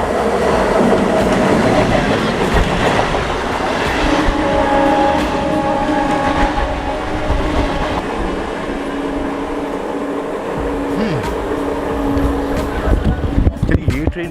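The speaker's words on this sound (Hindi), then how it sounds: "शायद आवाज़ तो लग रहा है कोई एमईएमयू ट्रेन ही है" MEMU train passing by in West Bengal, a loud sustained rumble and rattle of wagons rolling past close by, with clicking wheel sounds and a voice talking over the noise.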